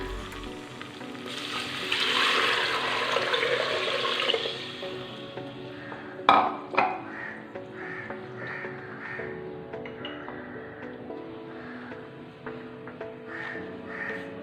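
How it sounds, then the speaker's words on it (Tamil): Water poured onto rice in a hot pot of ghee for ghee rice gives a loud hiss and sizzle that fades into gentle bubbling with scattered clinks and taps, close up and without speech. "3 கப்பும் ஒரு 3/4 கப்பும் தண்ணி சேர்த்துக்கிறேன்."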